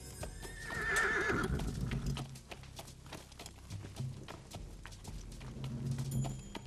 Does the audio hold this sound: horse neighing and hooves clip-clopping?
yes